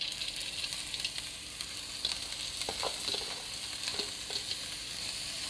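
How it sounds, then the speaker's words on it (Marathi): Moth beans sauté with masala in oil in a pan, a soft continuous sizzle with occasional light scraping clicks of stirring, close and steady with no talking. "मटकी आपल्याला मसाल्यासोबत 1 मिनिट व्यवस्थित परतून घ्यायची आहे"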